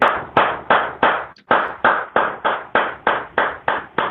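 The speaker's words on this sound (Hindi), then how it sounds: "आप सबकी जोरदार वाली तालियां होनी चाहिए।" Loud applause from a seminar audience greeting a guest as he walks on stage, heard as a series of about a dozen evenly spaced, sharp bursts of clapping with a brief gap near the start.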